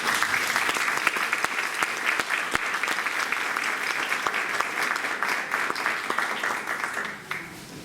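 Audience applause at a board meeting: a steady, dense wash of many hands clapping that holds for about seven seconds before thinning out near the end.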